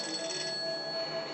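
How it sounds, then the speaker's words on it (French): A grandmother's telephone rings steadily with an electronic tone, a short continuous burst of ringing at moderate volume with no voices. "C'est que le téléphone de mamie."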